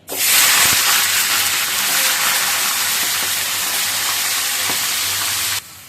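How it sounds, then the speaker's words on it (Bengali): Marinated chicken frying in hot oil, a loud dense hiss that erupts at once and stays close and steady, with a few faint knocks underneath, then cuts off sharply near the end, with no talking. "এবার মাংসটা তেল দিয়ে দিই।"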